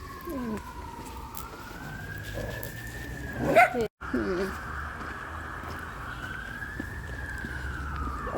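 A dog yaps and whines in a London park beside a small lake, a short burst standing out near the middle, while a steady siren-like wail drifts overhead and someone talks throughout.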